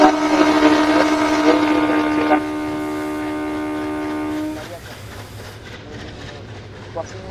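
The Banalata Express in a Bangladeshi train simulator game sounds a long, loud, steady multi-tone horn, then rolls past with a low rumbling drone that fades to quieter track noise.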